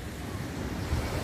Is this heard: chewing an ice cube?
no